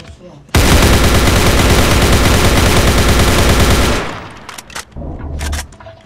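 Rapid automatic gunfire in a video game played with Ray's mod blasts loud and continuous for several seconds, then stops and is followed by a few scattered bursts.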